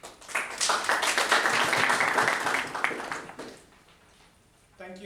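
Audience applause at a Toastmasters club meeting, a burst of clapping that swells, holds for a few seconds, then fades as a voice begins at the end.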